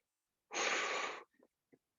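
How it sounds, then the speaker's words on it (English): During a live abs and core workout, one forceful, breathy exhale rushes out close to the mic for under a second, followed by a couple of soft, short breaths. "I'm sure you hear me breathing"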